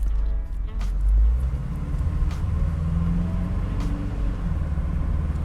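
A 1984 Pontiac Fiero pace car pulls away in reverse, its engine a low steady rumble with a brief louder surge near the start, close by and without talk.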